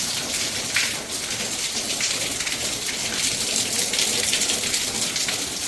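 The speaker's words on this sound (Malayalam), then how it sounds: "അപ്പോഴേക്കും മഴയൊന്ന് ചോർന്നു" Steady monsoon rain pours into the open central courtyard of a large Kerala house, a dense, even hiss of drops striking the surfaces. It holds at the same level throughout with no voices.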